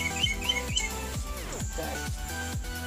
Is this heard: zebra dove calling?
yes